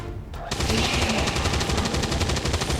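A rapid, sustained burst of automatic gunfire from the video game XCOM 2 starts abruptly after a brief quiet moment and rattles on loud and close to the end.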